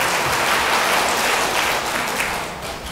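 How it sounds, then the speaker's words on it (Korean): Church congregation clapping together in thanks during a teachers' dedication service, a steady dense wash of applause filling the room from start to finish, fading slightly at the end. "옆에 있는 분한테 감사합니다 박수 한번 할게요"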